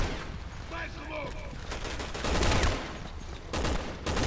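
Gunfire in Resident Evil 6 crackles in rapid bursts, loud and close, with dense overlapping shots and a voice talking among them.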